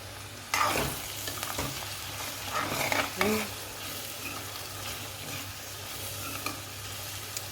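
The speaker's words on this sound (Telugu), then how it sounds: "ఇక్కడ నేనైతే ఆయిల్ వేసుకొని పచ్చిమిర్చి ఆనియన్స్ అయితే వేసుకున్నాను" Onions and green chillies frying in oil for a gongura meal maker curry, a steady crackling sizzle broken by several scraping stirs of a spatula, close and clear with no talk.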